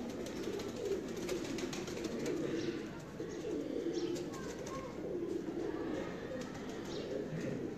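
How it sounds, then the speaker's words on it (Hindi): Pigeons coo softly and repeatedly in a loft or coop, a low murmuring cooing that runs steadily throughout, with faint chirps and occasional wing rustles in the background. "बड़ी कबूतरी है"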